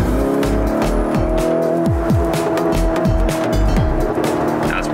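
Race cars on a circuit, loud and continuous: several engines roar and pass one after another with sweeping pitch changes and tire squeal, a busy trackside wall of sound with no talking.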